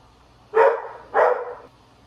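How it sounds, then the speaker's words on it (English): A dog barks twice indoors, two close, evenly spaced barks roughly half a second apart, each trailing off before quiet returns. "Sorry for the dog interruption."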